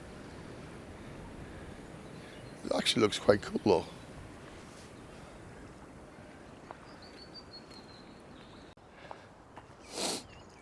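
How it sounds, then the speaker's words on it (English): A small brook, swollen with water after wind and rain, flows with a faint, steady rushing hiss beneath a man's brief remark. "this little brook here, it's not normally this full of water, but because of all the wind and rain we've had lately"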